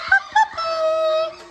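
Young puppies whining and whimpering at close range, two short yips followed by a long, sustained high-pitched whine that fades out at the end.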